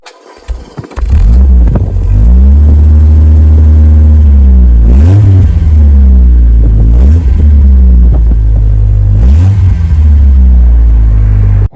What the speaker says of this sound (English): let's go and have a listen to the car from the back